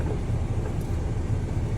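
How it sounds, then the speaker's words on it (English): A Class B truck's engine idles during a trucking school CDL air brake test, a steady low rumbling drone heard close and alone with no talk over it. "My engine is running."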